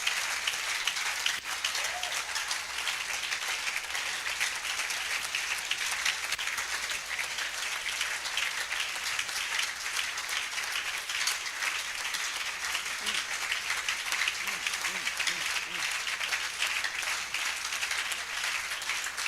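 A church congregation claps and cheers together in a sustained, even wash of applause that carries on without a break, recorded from within the crowd at a moderate level.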